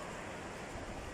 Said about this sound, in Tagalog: Ayan ang dagat.